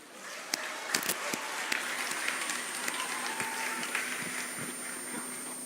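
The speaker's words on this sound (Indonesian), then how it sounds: "Tepuk tangan dulu semua." A lecture-hall audience at an Indonesian academic oration breaks into sustained applause, with dense clapping that continues throughout and a few sharper claps standing out.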